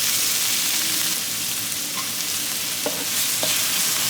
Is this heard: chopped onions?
yes